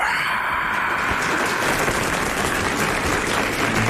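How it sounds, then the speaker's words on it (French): Steady, dense applause from a large theatre audience as the curtain rises, continuous and even throughout with no voices standing out. "le rideau se lève sur une place espagnole. Le public applaudit."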